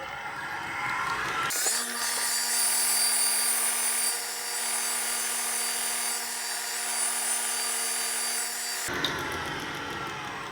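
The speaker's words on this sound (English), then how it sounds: "this is the buffing belt or polishing belt. And this is what I use to take off the burr" A buffing belt on a belt grinder polishes a Hudson Bay pattern axe edge to strip the burr, giving a steady humming whine with a faint scraping rasp that runs for about seven seconds, then stops.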